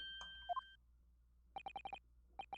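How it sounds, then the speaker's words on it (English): A music box in a video game plays a coded tune of short, evenly spaced bell-like tones, first a brief cluster, then a quick run of five notes and two more after a pause, quiet and clean against near silence. "this sound emanating from this music box is not supposed to be music"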